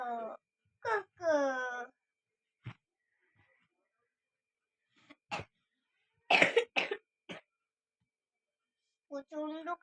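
Heavy, chesty coughs from one person come in short separate bursts with quiet gaps between, a few strained voiced moans mixed in, close and fairly loud against silence.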